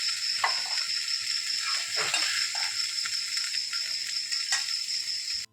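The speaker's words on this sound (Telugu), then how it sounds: "అదే బాండీలో కొంచెం నూనె వేసి వేడెక్కే ఉంది కదండి దొండకాయ మొక్కలు వేసాం" Ivy gourd pieces sizzle steadily in hot oil in a kadai, a close, continuous hiss with occasional spatula scrapes and light clatters of the pan.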